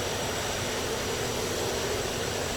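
A JF-17 fighter jet's engine in the DCS flight simulator game roars as a constant, dense, broadband turbine rush, loud and steady throughout with no talk.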